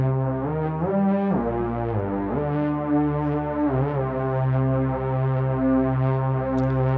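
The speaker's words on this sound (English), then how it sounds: "Now the drone sound," A sustained synthesizer drone with rich, layered harmonics holds steady, its tone shifting slightly and sliding in pitch near the start.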